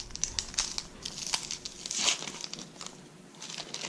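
Papery outer layer of an onion being peeled off by hand in a kitchen, a close, soft crinkling and crackling with small tearing rustles, alone without talk.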